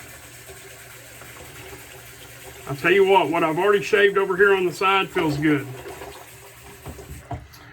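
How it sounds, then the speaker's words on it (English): Water runs steadily from a tap in the background while someone talks close by over the flow. "gonna run a little bit of water, guys. Sorry for the noise."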